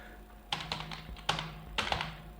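Fingers type on a computer keyboard in three short bursts of quick, close clicks, with brief pauses between them.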